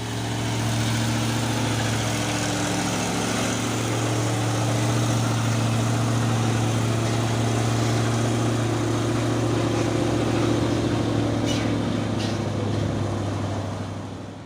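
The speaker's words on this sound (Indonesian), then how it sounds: "Truk Hino Jember Euro 4." A Hino truck climbs a hill in a convoy, its Euro 4 engine droning in a deep, steady hum close by, holding even and loud before easing off at the end.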